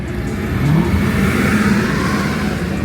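A BMW M340i running a custom tune, its engine revving loudly and steadily up close, with a droning rise and hold and no talking.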